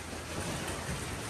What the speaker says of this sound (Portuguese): Chuva de vento.